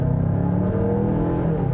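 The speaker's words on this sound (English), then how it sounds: "all-wheel drive is standard on the signature model, so that means when I floor it from a stop" A 2021 Mazda CX-9 Signature AWD family SUV accelerates hard from a standstill, its engine note rising in a steady, close rumble with no talking over it.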